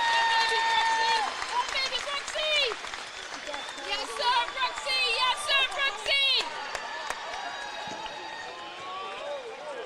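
Tanager fans applaud as Coach John Brooks receives his medal at a Class A state championship football game, a steady crowd roar and clapping filling the stadium with whistles and shouts on top.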